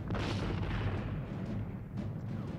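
Massed cannon fire in a 1970 Waterloo battle scene booms as a dense, continuous rumble of overlapping distant blasts, heavy and low throughout, with no speech.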